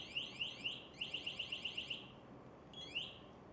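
An MSA G1 breathing apparatus alarm chirps in quick rising bursts, a few spaced beeps then a rapid run of about eight, pausing before one more chirp, fairly close and clear.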